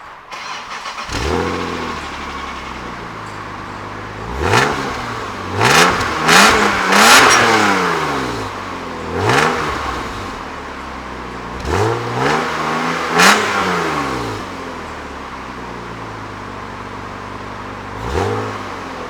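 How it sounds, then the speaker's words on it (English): A BMW E36 M3 on its stock exhaust starts up, settles to idle, then revs repeatedly in sharp blips that rise and fall, loud and close with no talking. "here's the stock exhaust"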